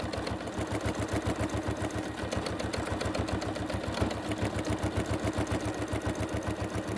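A sewing machine stitches back and forth over a collage-pieced quilt, its needle chattering in a steady, fast mechanical rhythm with a low motor hum, close and continuous throughout.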